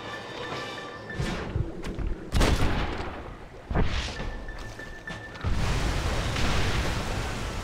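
Gunfire in Red Dead Redemption sounds as several sharp, loud shots spaced a second or two apart, each with a rumbling tail, over a constant low background roar.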